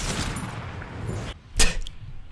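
A single sharp gunshot in the video game Fortnite cracks out after a stretch of noisy game ambience, loud and close with a short tail.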